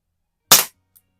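A single sharp, loud report from a Dan Wesson Valor 1911 CO2 pellet pistol by ASG, fired close by, then silence broken by one faint tick.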